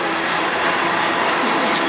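A Canadian National freight train led by two locomotives rolls past as a steady, broad rumble and rush of wheels on rail, holding constant and close throughout with no voices.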